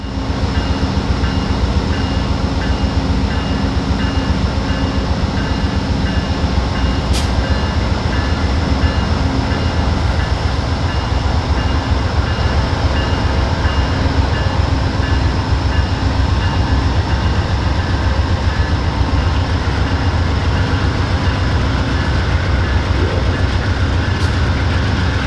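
Amtrak train 49, carrying the New York Central Hickory Creek car and trailing the Amtrak Phase 4 Heritage Unit, rolls past with a steady, loud, continuous rumble of wheels and rail noise throughout.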